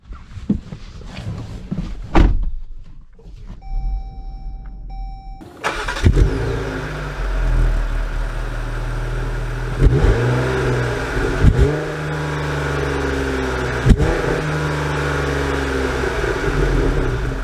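A 2022 Chrysler Pacifica Limited AWD minivan is started and driven off, a cabin chime and engine start followed by a steady close engine hum with several revving rises and shifts as it gets underway.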